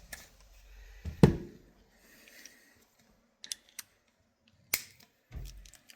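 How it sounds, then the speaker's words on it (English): A torque wrench tightening valve body bolts on a 68RFE transmission in a 2019+ Ram 2500, heard as a few sharp isolated clicks and ratchet snaps separated by quiet pauses, close up. "Now I'm torquing these to 60 inch-pounds"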